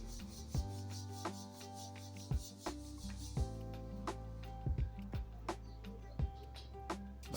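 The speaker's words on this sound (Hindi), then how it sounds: "अपने दोनों हाथों को रगड़ते हुए" Two palms rubbed together briskly during a yoga Om chanting practice, a steady close dry friction with periodic soft pats and shifts, no talking.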